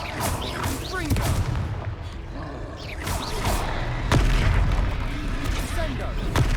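The Confringo fire spell goes off in Hogwarts Legacy in several sharp, booming blasts that burst out of ongoing combat noise. A voice calls out over the fighting.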